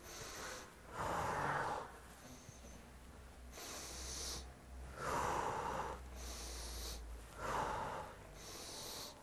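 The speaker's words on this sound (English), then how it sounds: "I breathe." Heavy, deliberate breaths during a workout exercise, drawn in and pushed out in slow cycles about every two seconds, close-up and raspy, with no talking over them.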